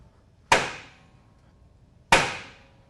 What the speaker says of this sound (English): using a suitable installer tool and a nice big hammer, you can take it and drive it right into place